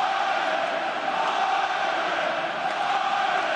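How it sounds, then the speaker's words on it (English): A rugby stadium crowd at an Ireland versus New Zealand match roars in a steady, dense wall of noise, loud and sustained without breaks. "They've got the crowd in the game."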